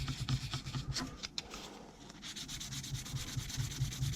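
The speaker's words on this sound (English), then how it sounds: "Lightly sanding" Light, rhythmic sanding strokes with 240-grit rub back and forth up close on a Ma.K model figure, a soft scratchy rasp repeating steadily with a short pause midway.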